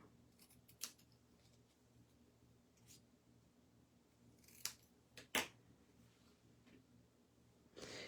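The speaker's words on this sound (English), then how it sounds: "I'm going to be cutting this one also in an angle." Scissors cutting paper card at an angle for a handmade card, a few faint, sharp snips spread apart in a quiet room, with soft rustling between them.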